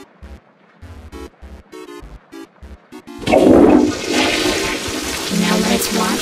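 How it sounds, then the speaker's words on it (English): A toilet is flushed, giving a loud, close rush of water that keeps going for several seconds after a short stretch of quieter sounds. "Let's flush the toilet."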